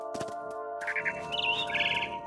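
A mother bird chirps in What Remains of Edith Finch, a short burst of bright tweets over a steady in-game musical drone and ambient hum.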